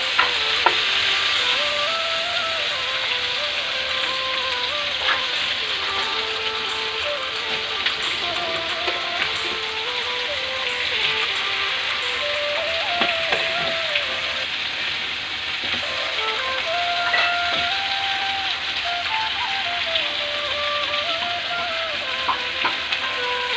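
Marinated tandoori chicken sizzles steadily as it fries in a pan on a home stove over lowered heat, with a continuous hiss and small pops throughout and a faint tonal layer underneath.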